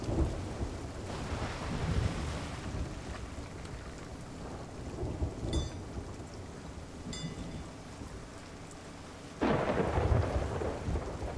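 Storm weather at sea in the game Sea of Thieves, with rolling thunder rumbling over steady rain, several swells and a loud crack near the end.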